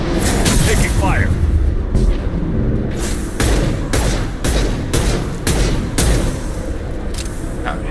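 Shotgun blasts and heavy gunfire in the game Mass Effect 2 Legendary Edition, a rapid series of loud booming shots spaced about a second apart over a continuous battle din, with a voice talking partly over it.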